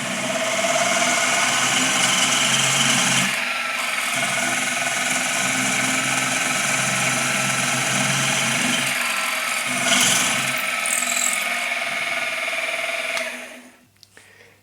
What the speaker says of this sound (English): now we're going to go and drill these out